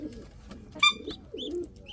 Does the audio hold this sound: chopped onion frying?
no